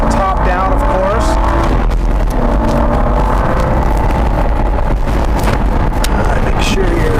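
A 2007 Aston Martin Vantage Roadster cruising at speed with the top down, its engine a steady rumble under heavy wind buffeting, with people talking over the noise throughout.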